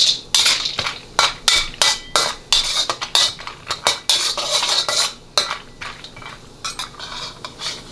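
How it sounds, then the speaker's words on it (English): Dry roasted peanuts stirred in a few teaspoons of sesame oil in a pan, with a steady run of close, sharp utensil clinks and scrapes against the cookware and a faint sizzle underneath. "we're going to quickly fry up about a 1/4 cup of dry roasted peanuts"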